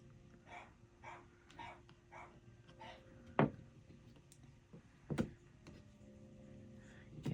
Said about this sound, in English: You may hear my pup in the background